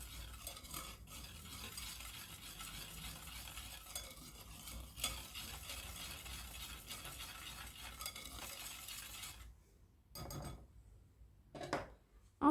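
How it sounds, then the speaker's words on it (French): A spoon works baking powder and sugar into eggless, butterless cake batter in a bowl, giving soft, steady stirring scrapes close by. The strokes stop near the end, leaving a few brief taps and scrapes separated by silence. "Je vais venir tout mélanger ensemble."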